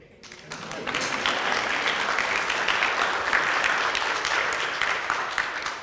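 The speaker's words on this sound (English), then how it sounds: "Y'all can clap." A room of listeners at a talk on preserving African American historic places breaks into applause, starting abruptly and holding as a full, steady clatter of clapping.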